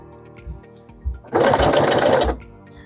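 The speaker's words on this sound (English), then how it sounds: "Just started with a back stitch." A sewing machine stitches piping onto fabric, running in one close, steady burst of about a second after a few soft low knocks, with no talking.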